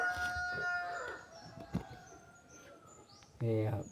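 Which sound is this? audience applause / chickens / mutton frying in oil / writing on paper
chickens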